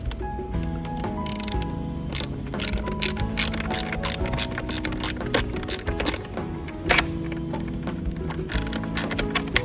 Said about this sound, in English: So let me try to unbolt it from here.